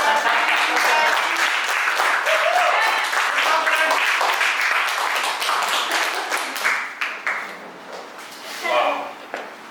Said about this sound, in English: A round of applause for Rajni.